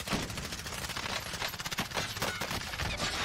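Sustained automatic gunfire in a Warzone match, loud and close, rattling in rapid repeated bursts throughout.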